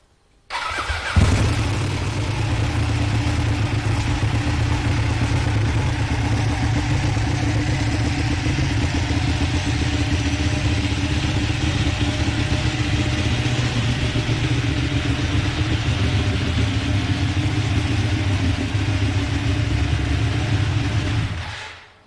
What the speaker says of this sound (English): Give us the sound of this, as you know. You can now get it off the set so that people know the real Superbike